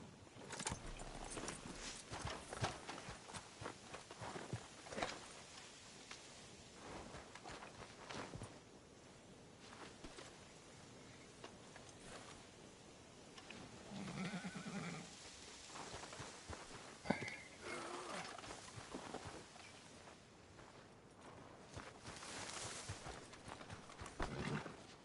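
Horse hooves clip-clopping in Red Dead Redemption 2, a soft irregular patter of hoofbeats mixed with game ambience and occasional snorts, faint and somewhat distant throughout.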